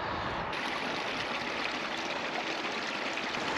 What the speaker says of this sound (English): The sound of running water with traffic in the background.